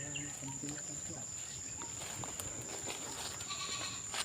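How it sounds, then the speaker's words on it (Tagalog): Goats on a farm bleat intermittently at a moderate distance amid steady outdoor background noise, with a constant high-pitched insect-like whine and faint voices in the mix. "Taga dito namang sasaka yung mga kambing na yan."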